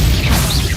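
Glacius ice spell in Hogwarts Legacy combat, a short, dense crackling crash over a thick low rumble, loud and steady for its brief span.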